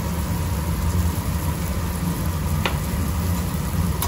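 Okra stir-fried with salt in a pan, a loud, continuous sizzle with a low steady rumble beneath it and a single brief scrape partway through.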